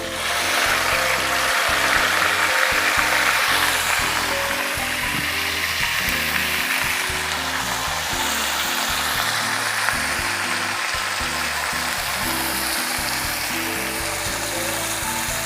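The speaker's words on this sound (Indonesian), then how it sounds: "Saya tumis dulu bumbu pepes yang sudah dihaluskan." Ground spice paste for pepes bandeng, a Javanese milkfish dish, sautéing in a pan with a steady, loud sizzle and frying crackle throughout, close up with no talking.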